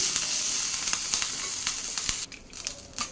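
Green chillies sizzle and crackle in hot oil in a pan, cooking for a Telugu roti pachadi chutney with kalakaya (karonda berries); a steady close fry with scattered pops, easing off near the end.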